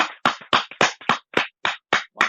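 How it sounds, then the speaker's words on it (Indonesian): About nine or ten separate hand claps ring out one after another in a quick, even rhythm. The claps are close, crisp and loud, with silence between each. "kita bisa kasih tepuk tangan ya untuk Bang Haji"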